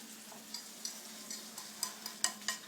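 Food gets stirred and shaken in a pan, with a faint sizzle underneath. Soft scraping taps and clicks repeat every few tenths of a second, quiet and close, with a low steady hum behind.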